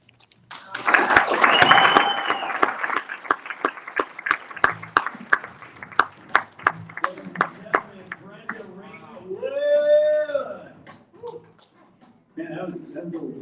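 An audience breaks into brisk, rhythmic clapping that fades into scattered claps, then someone talks over the dying applause at a motivational talk.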